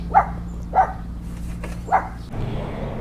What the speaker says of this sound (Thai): เสียงเห่าเพิ่นก็ได้